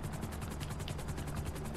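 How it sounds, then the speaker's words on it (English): Helicopter rotor from GTA 5, the aircraft perched on a blimp, giving a steady, close, loud chopping drone with even rhythmic pulses throughout. "I know the helicopter is going to go flying off the edge of it."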